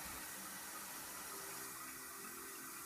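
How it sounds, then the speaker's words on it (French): Steady rush of tap water pouring from a faucet to fill a container for seed germination, continuous and even throughout, with no one speaking. "Je vais prendre l'eau du robinet."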